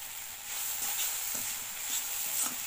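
Jute leaves (pat shak) frying in a pan give off a steady, soft sizzle with a few faint stirring scrapes.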